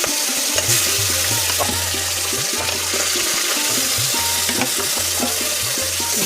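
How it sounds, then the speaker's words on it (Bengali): Koi fish frying lightly in oil in a pan, a loud steady crackling sizzle with bubbling throughout and some low rhythmic thumps underneath, no talking. "ওই জন্য একটু হালকা ভেজে নেব। যে একে একে মাছগুলো দিয়ে দিচ্ছি।"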